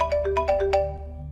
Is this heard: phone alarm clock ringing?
yes